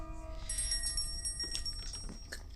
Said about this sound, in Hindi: घंटी का आवाज बज चुका है